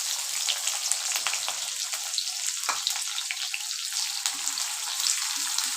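Thinly sliced onions frying in hot oil in a pan, giving a steady, dense sizzle with soft crackles throughout, close and fairly loud with no talking.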